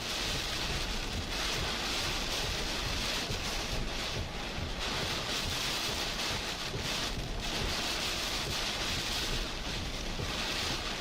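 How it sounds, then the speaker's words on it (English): Hurricane Beryl making landfall in Texas brings heavy, steady rain and strong wind, a dense continuous roar that holds without a break and swells slightly in places. "Wind is really strong right now."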